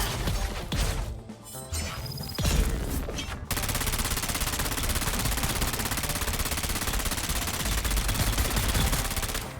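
Rapid bursts of automatic gunfire from a new weapon in the video game Dune Awakening, loud and continuous, dense sustained rattling after a choppier start.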